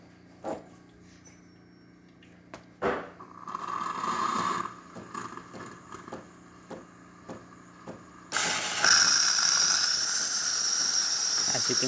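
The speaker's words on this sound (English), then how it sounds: "nice steady steam coming out of the machine, excellent pressure" A Saeco espresso machine steam wand releases steam: after a few clicks, knocks and sputtering bursts, a loud, steady hiss starts and carries on to the end.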